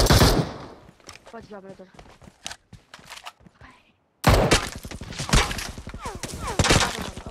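Rapid bursts of gunfire in PUBG Mobile, sharp cracks crowding together in quick volleys, loud and close, with a player talking over the shooting.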